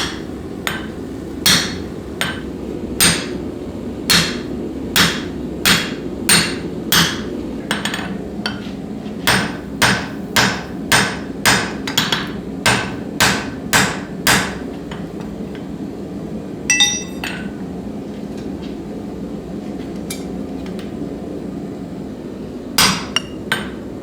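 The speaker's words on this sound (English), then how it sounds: "After the hole is punched, it's time to start drifting the eye" Hand hammer striking hot steel on an anvil while drifting the eye of a forged cross peen hammer: a long run of sharp ringing blows in quick regular bursts, with pauses, then a few final strikes, close and loud.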